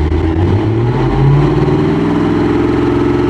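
A car engine runs with its exhaust mufflers fitted, a loud, close, low rumbling idle with a slight rise and fall in revs throughout.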